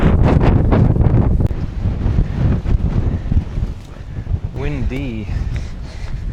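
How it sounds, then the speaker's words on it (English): Strong wind buffets the microphone on a mountain top overlooking the coast, a loud rumbling roar that eases slightly, with a brief voice heard near the end. "Windy."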